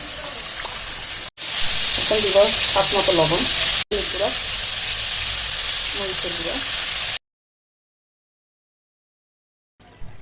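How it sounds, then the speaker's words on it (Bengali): Ground sesame paste and garlic sizzle steadily in a hot pan for several seconds while someone talks over the frying, before the sound cuts to silence. "এখন তিল বাটা আর রসুন একটু বেজে ফেলি কাঁচা গন্ধটা যাওয়া পর্যন্ত"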